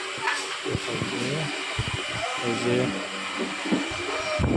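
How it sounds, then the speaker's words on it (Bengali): Luchi puffed bread deep-frying in hot oil for a morning breakfast, a steady broadband sizzle and hiss running throughout, with someone talking briefly over it. "এই যে সকালের লুচি ভাজা হচ্ছে"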